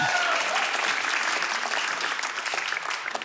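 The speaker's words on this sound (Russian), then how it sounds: "Ребята, аплодисменты!" Enthusiastic audience applause at a Russian comedy show, a full steady burst of clapping from a crowd, fairly distant and even, with a brief voice at the very start.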